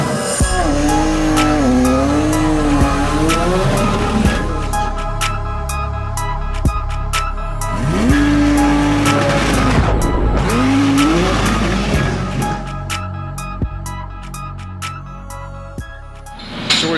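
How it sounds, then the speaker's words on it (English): A roughly 2500-horsepower Nissan GT-R drag car at the GTR World Cup 2020 in Bradenton, loud and close, engine shifting up through gears in repeated rising pulls with tire squeal, ending abruptly. "So we've got George Stodworth's car out here again this year."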